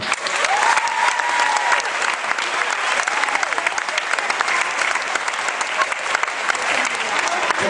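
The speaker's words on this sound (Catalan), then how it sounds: "com no, un fort aplaudiment, Janio Martín." Sustained audience applause at a concert, dense and steady clapping from a full crowd for several seconds with no talk over it.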